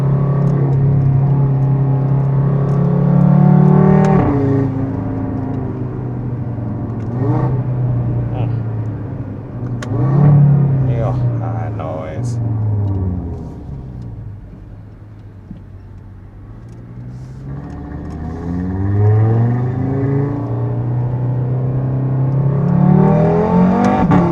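An Audi RS3 with a modified exhaust revs and accelerates with a deep, throaty exhaust drone, rising and falling in pitch repeatedly, loud and close throughout.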